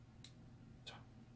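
Two small, sharp clicks from the clicker part of a baitcasting reel during bearing tuning, quiet and spaced about half a second apart over a low steady hum.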